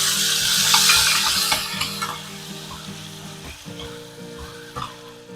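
Tomato pieces go into sizzling ginger-chili paste in a pan for Gujarati onion-potato shaak, giving a loud, steady frying hiss with soft stirring scrapes, close up and without talk.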